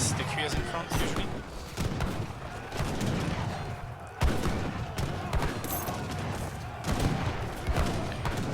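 Musket volleys crackle from skirmishers and war wagons in a real-time strategy battle in Germany versus France on the New England map, with dense overlapping gunshots, booms and battle clatter running steadily throughout, loud and busy, under a talking player.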